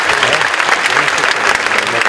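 Sustained applause fills a hall at a book fair, dense steady clapping from a large audience, loud and close throughout.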